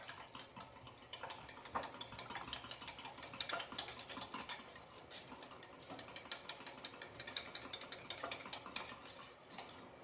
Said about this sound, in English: take your egg and mix it with your 2/3 cup of milk